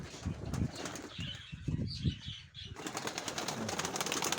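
Mykolaiv pigeons circle close overhead, their wings clattering and flapping in repeated bursts, followed by a softer, more continuous flutter as the flock passes.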